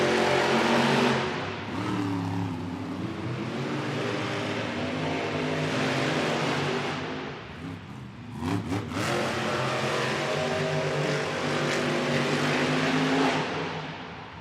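Monster Jam trucks Gravedigger and Jurassic Attack race in an arena, their engines roaring loudly and steadily with surging revs over a dense crowd wash, no talk.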